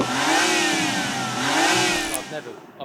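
A tuned diesel car revs hard as it passes close by, a loud droning engine rising and falling in pitch through the gears, then fading quickly, with nothing spoken over it.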